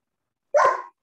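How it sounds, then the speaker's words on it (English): A dog gives a single short bark at moderate distance, alone, with silence around it. "And we get the barks also along with that."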